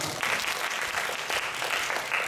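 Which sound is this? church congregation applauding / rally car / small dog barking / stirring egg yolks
church congregation applauding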